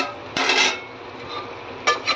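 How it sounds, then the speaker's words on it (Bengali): A pot lid comes off, then chicken for chicken makhmali is stirred in the pot, with a sharp metallic clank at the start, a scraping stretch, and a second clatter near the end. "ঢাকনা খুলে আমি চিকেনটা নেড়ে নিচ্ছি"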